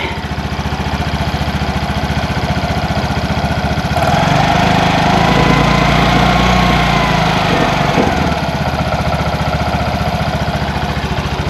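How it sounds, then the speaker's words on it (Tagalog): A new Vespa Primavera S 150 scooter engine idles, then rises briefly in pitch and volume as the throttle is blipped for a few seconds before settling back to idle. "Yun yung kanyang tunog ng engine."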